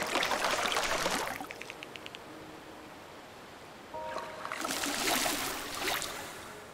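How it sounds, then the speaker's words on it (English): Rushing waterfall in the video game Terra Nil, a broad hiss of falling water that swells, thins to a quieter wash mid-way, then surges loud again, with soft game chimes layered in. "I love the, like, waterfall."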